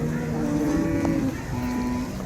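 An HF cow moos at a cattle market, one drawn-out low call close by, with market noise around it.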